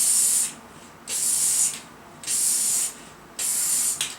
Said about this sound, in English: Keep a couple things in mind when you're spraying.